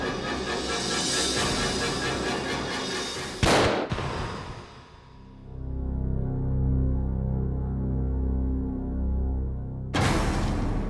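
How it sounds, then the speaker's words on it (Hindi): Two sharp, loud bangs ring out several seconds apart over a dense background, each one a sudden crack that fades quickly. "ये तो गोली चलने की आवाज है।"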